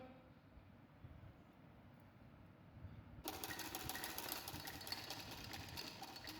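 A sewing machine runs steadily stitching the gathered side panel of a baby frock, its motor whirring in a continuous close drone that starts partway through and holds to the end.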